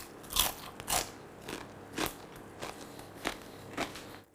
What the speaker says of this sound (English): That's how a pork knuckle should sound.